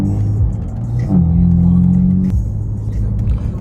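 BMW M4 track car driving, a loud low engine drone inside the cabin that steps up in pitch as it accelerates, then drops back, steady rumble throughout.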